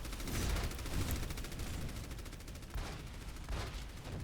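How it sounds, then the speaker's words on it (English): Rapid gunfire rattles continuously in a round of the video game Overwatch on the Volskaya map, loud bursts of shots sprayed in quick succession with no talk. "they're spamming shots around to try and locate the Sombra"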